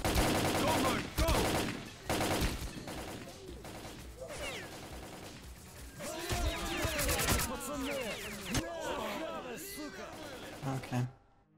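Machine gun fire rattles in S.T.A.L.K.E.R.: Clear Sky, with rapid, loud bursts and scattered single shots mixed with crashing impacts and whizzing sounds, while voices talk over the shooting.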